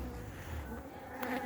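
Honeybees buzz steadily around backyard beehives fitted with bee escapes, a continuous close insect drone with no voices.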